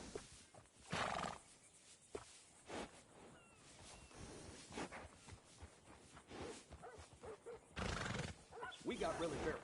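A horse in the Red Dead Redemption 2 game neighs and snorts near a stable, short whinnying bursts with hoof clops, mixed with people talking.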